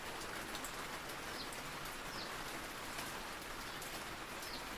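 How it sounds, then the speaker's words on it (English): Steady, even rain falls continuously, a dense broadband hiss of drops on surfaces that never lets up, with no talking and a few faint bird chirps far in the background. "The rain keeps its unhurried rhythm"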